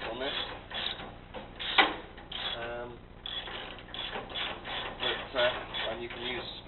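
A spanner undoing both bolts on a nipper tool, producing steady ratcheting, grinding mechanical clicks close by, with a voice present alongside throughout.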